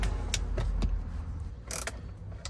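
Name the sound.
deep socket wrench loosening Jeep Wrangler trim panel fastener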